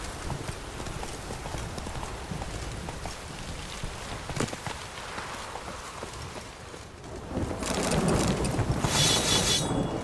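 A horse gallops in The Witcher 3, its steady, rapid hoofbeats close and continuous, with a broad hissing wash rising toward the end.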